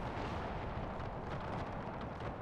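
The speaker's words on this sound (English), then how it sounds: "It's perfect cannon shots going up the line of the Austrians there." Cannon fire in the Napoleonic battle game Napoleon: Total War, a dense, continuous rumbling barrage of distant booms blending into a steady roar.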